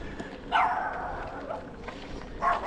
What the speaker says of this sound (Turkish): burada çok köpek var